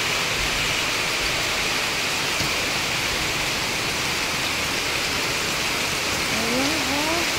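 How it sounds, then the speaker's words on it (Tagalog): Steady rain pours down over a rice field during harvest with a combine harvester, a dense continuous hiss throughout, with faint rising tones near the end. "inabot talaga yung harvester sa ulan eh"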